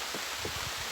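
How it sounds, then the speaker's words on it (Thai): Rain falling steadily outdoors on a fruit-picking morning, a soft continuous hiss with scattered low patters and no talk. "โอ้ฝนตกอีกละ"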